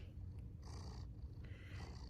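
Washington the house cat purrs steadily up close, a soft, continuous rumble that runs unbroken and alone, with no voices over it.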